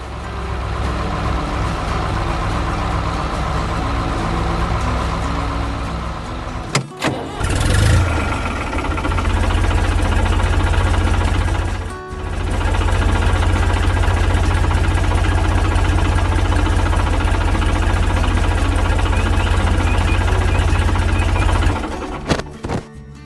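A tractor engine runs loud and close, a steady low rumble broken by two brief cut-outs before it drones on and dies away near the end.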